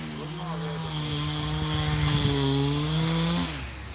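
Chainsaws run at a steady, droning engine pitch for about four seconds, a sustained mid-loud buzz that cuts off near the end, with faint voices in the background.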